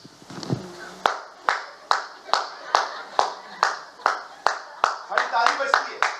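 A worship congregation claps in a steady, loud rhythm, about fourteen sharp hand claps evenly spaced with faint murmuring underneath.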